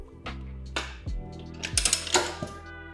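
A Rabaconda street bike tire changer works a motorcycle tire bead off the rim, giving a short run of sharp ratchet clicks and metallic mechanism clacks, close and alone.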